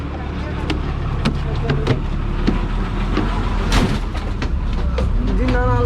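A bus pulls in at a stop in rural Konkan near Kunkeshwar, with a broad mid-loud rumble, scattered clatter and knocks, and a squeal near the end.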